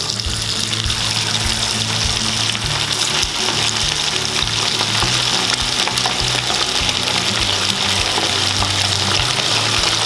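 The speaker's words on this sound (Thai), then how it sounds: "ครับน้ำมันเริ่มร้อนแล้วเนาะ เราใส่หมูไปเลยนะ" Pork pieces frying in hot oil for Thai shrimp-paste fried pork: loud, constant crackling sizzle with steady bubbling, close and uninterrupted.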